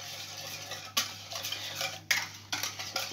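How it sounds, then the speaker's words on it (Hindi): A spoon mixes Russian salad in a bowl, giving repeated close scraping and clinking strokes in an uneven rhythm with short pauses between them, and no talking. "अब इसको फिर से अच्छी तरह से मिक्स करेंगे।"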